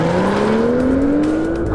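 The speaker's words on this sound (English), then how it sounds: "If you put the pedal to the metal, this engine really punches the car from 0 to 100 kilometers per hour" A BMW 2 Series Coupé with TwinPower Turbo engine accelerating hard, a loud, close, steadily rising engine pitch held throughout with a strong sustained tone and no talk.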